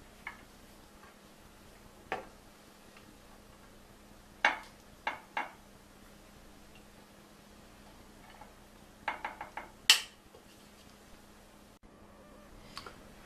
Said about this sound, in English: go ahead and scoop this out and put it into the pan here